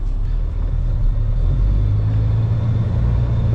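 A Sterling truck with a 9-speed transmission driving slowly through a farm field, its engine giving a steady, loud low rumble throughout with no talk.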